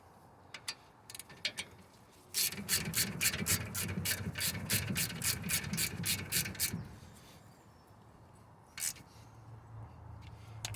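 Bolts being tightened on an alloy brake caliper of a SAAB 9-3, with sparse clicks and then a fast, even run of close ratchet clicks for several seconds, stopping and followed by a couple of final clicks.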